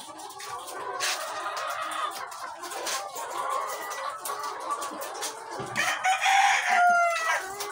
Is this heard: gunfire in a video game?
no